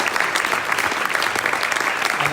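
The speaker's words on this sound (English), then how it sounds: "big applause for them" Indoor tech meetup audience claps continuously, a dense, steady wash of applause from a sizeable crowd.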